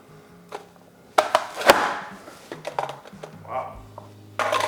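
A manual onion chopper dices large onions with a series of sharp, close chopping clacks, several loud hits in quick succession followed by softer knocks and rattles, with someone speaking between them.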